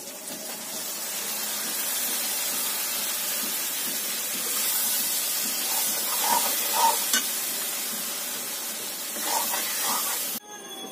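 Meat sizzles and hisses in a pot over a wood fire while cooking biryani, a steady close crackle with a few utensil clinks and an abrupt stop near the end.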